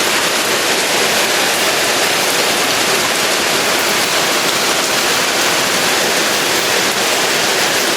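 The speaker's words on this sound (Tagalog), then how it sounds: "nabutan na nga sila ng ulan" Heavy rain pouring down on a construction site where a bathroom is being built, a dense, steady hiss of rain on surfaces, loud and unbroken throughout.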